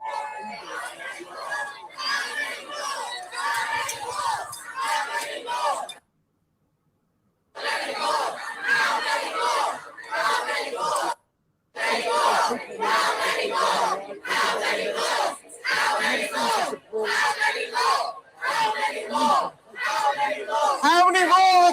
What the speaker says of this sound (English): How many more the crowd is chanting?